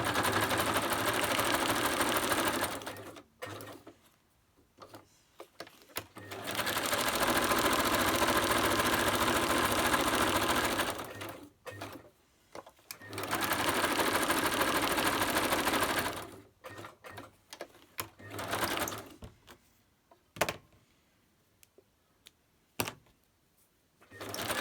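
Sewing machine zigzag stitching around a paper snippet roll for a junk journal, loud steady mechanical whirring in several long runs separated by quiet pauses and short bursts.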